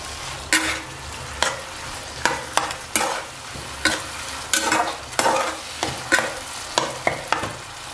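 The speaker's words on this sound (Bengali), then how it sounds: "আমি এখানে টমেটো কুচি দিচ্ছি" Chopped tomatoes fry in a pan with kasuri methi, a soft sizzle under regular scraping stirs that land about once every half second, close and clear.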